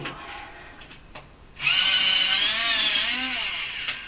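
An electric pencil sharpener starts up after a few light clicks and whirs loudly and steadily as a pencil grinds in it, close by, with the pitch wavering under the load.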